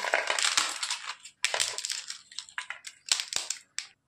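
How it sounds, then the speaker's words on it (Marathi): Leftover bhakri flatbread being crushed by hand with garlic, green chilies and coriander gives close, dry crunching and crackling in irregular bursts, with short pauses between them. "हे बघा बारीक करून घेतले।"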